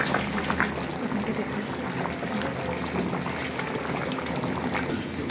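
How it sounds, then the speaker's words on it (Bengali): Rice frying and meat braising for a large biryani batch serving fifteen, a continuous dense sizzle and bubbling hiss that stays fairly loud and even, with a brief clatter at the very end. "এই চালটা আমি ভালো করে ভেজে নিচ্ছি আর এদিকে মাংসটা কষানো হচ্ছে।"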